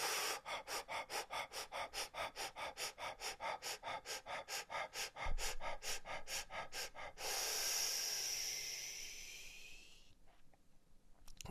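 Fire breathing exercise: a long run of quick, evenly paced loud breaths, roughly twenty-five close rhythmic huffs, then a drawn-out hissing exhale that tapers away into quiet.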